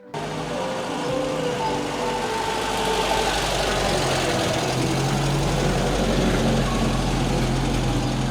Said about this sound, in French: Petit tour en Simca Aronde P60.